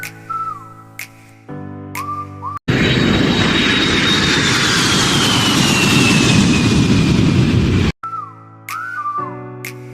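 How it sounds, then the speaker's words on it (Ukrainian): Airplane engine roaring loudly and steadily for several seconds with a high whine, set between bits of bright plucked music. "Літак."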